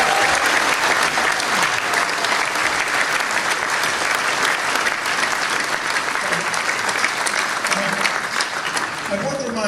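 An audience applauds at a Fine Gael election campaign event, loud continuous clapping filling the whole stretch with crowd noise and some voices mixed in.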